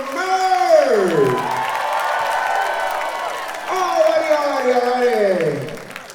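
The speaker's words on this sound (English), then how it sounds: "And one more huge round of applause for Merv!" An audience at a dance battle event cheers, whoops and claps steadily in a loud, continuous wash, with voices shouting over the top throughout.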